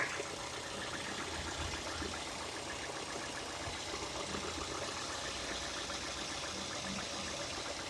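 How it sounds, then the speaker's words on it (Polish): A 2008 Mazda 6 engine idles steadily at close range, a constant low rumble with a faint rhythmic knock and no voices. "Posłuchamy silnika, jak to wygląda."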